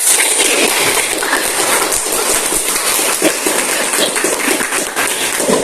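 An audience at a debate event applauds, dense and loud sustained clapping throughout with no voices standing out.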